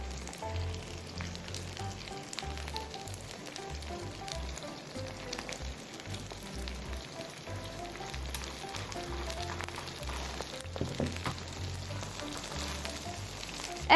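A seafood and green onion pancake (pajeon) fries in an oiled pan, a faint, steady crackling sizzle with soft popping that runs continuously, with no talk.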